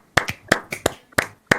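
Hand clapping in a round of applause for the games of 2021: six sharp, evenly spaced claps, close and loud, with no talk over them.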